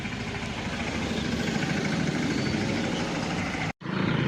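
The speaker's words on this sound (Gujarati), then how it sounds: "જોઈ લો ટ્રેક્ટર ચાલુ થઈ ગયા છે" Tractor engines idle in a queue at an agricultural marketing yard, a continuous rumbling drone, close and steady, with a momentary drop-out near the end.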